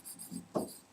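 Pen or marker scratching across paper during a Hindi-medium Class 10 geometry lesson on the area of a circle segment, a couple of short soft strokes close by with no talking.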